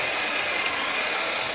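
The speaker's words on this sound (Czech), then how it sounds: "A brousím." An aluminium part from a Jaguar XJ12 5.3 V12 engine being ground, giving a steady, loud, close whirring grind with no talking over it.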